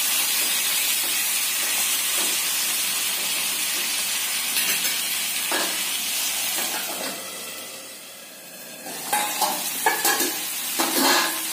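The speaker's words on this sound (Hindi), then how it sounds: "कटे हुए खट्टे देसी टमाटर ऐड करेंगे और इसे हम अच्छे तरीके से मिक्स करके टमाटर को गल जाने तक" Chopped sour desi tomatoes stirred and cooked in a pan for a homestyle baingan chutney, a steady close sizzle and hiss with scraping stir strokes that grow sharper and more clattery toward the end; no talking.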